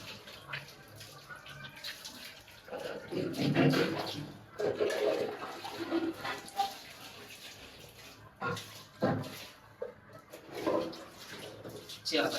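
Water is poured over a dog during a bath, pouring and splashing in uneven bursts, close up, while a person talks over it.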